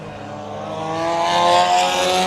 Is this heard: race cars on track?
yes